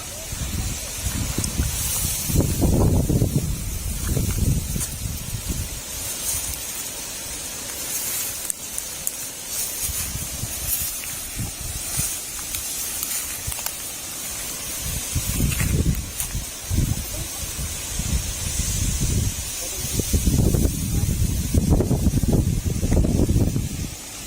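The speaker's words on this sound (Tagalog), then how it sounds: "Lakas ang hangin dito mga kabro." Strong wind buffets the microphone in heavy low rumbling gusts, rising and falling throughout, with a steady outdoor hiss underneath.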